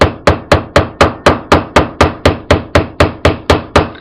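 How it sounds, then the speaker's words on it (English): Steady hammer strikes on jewelry ear wires set into a piece of suede, about sixteen sharp, evenly spaced taps ringing out alone at close range at a brisk, regular pace. "I like to stick mine in a piece of suede and use my hammer"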